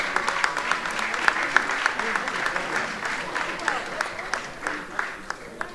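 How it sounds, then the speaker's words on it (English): Steady, moderately loud applause from a crowd at a community heritage celebration honoring award recipients, dense clapping with occasional sharper claps, continuing evenly throughout. "Another round of applause for our honorees."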